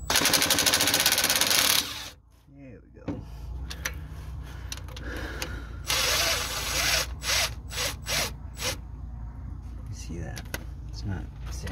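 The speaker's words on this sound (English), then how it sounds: "I'm gonna get an impact wrench, a half inch socket." Impact wrench with a half inch socket rattling off fuel pump bolts on a 1974 Ford F250, loud close bursts of hammering followed by several shorter intermittent rattling runs.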